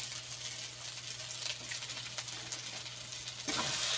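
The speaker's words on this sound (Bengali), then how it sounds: "আর একটু কষিয়ে নেব।" Spices cooking in oil with Kashmiri red chilli powder for a pooti fish curry, a soft continuous sizzle with faint stirring scrapes, growing a little louder near the end.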